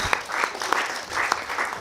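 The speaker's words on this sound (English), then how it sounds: "Can we have a big round of applause for Fuzzy Times?" A quiz show audience in Mumbai gives a quiz team a round of applause, a short, moderately loud patter of clapping with a few sharper individual claps.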